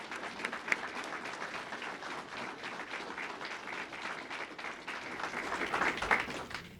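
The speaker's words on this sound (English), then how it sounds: "Let's give her a round of applause for that." An audience at a police awards ceremony gives sustained applause, a dense, even clatter of many hands in a room that swells slightly toward the end.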